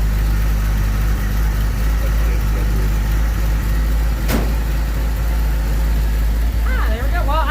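A 1981 Ford Mustang engine idles steadily with a deep, constant rumble after a new double-roller timing chain, close by, with a brief click partway through and faint voices near the end.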